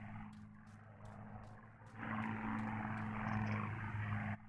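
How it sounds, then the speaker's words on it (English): A propeller warplane drones overhead in the video game Martha is Dead, a low, steady engine rumble that swells louder halfway through, with faint clicks over it. "Oh no, it's one of the planes."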